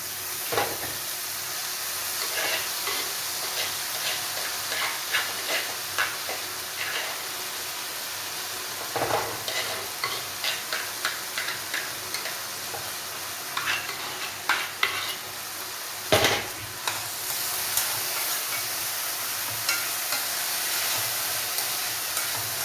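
Boiled green plantain, added to a pan with coconut, hisses and sizzles softly as a spoon scrapes and clatters through it in irregular bursts, close up. The frying noise swells near the end with a louder spray of steam.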